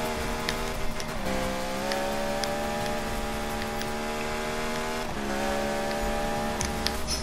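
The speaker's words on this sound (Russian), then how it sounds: "Моя тачка ревёт прям." A car engine roaring in the Need for Speed racing game, a loud sustained drone that holds its pitch and steps down to a new gear twice, with faint tire noise and no speech.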